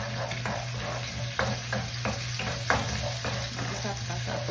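Garlic and onion sizzle steadily in hot cooking oil, a continuous crackling fry close by, punctuated by the scrape and clatter of a utensil stirring the pan, with a low steady hum in the background.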